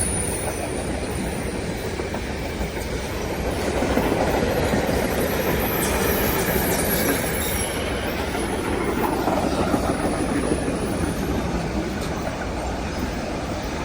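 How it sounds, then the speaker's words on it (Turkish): A long freight train rolls past nearby at night in Pratteln, Switzerland, a continuous heavy rumble with rattling wagons and faint wheel squeal throughout, no voices. "Bu da yük treni."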